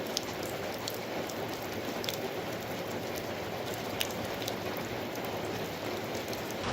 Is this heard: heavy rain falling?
yes